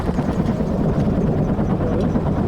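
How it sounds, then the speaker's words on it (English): A gyrocopter hover-taxis a few feet above the ground and touches down with its engine at idle, a loud, close, steady rotor and engine drone with rough wind buffeting, on a gusty day. "So we're doing a hover taxi now. Just a few feet above the ground, power's back to idle, and touchdown."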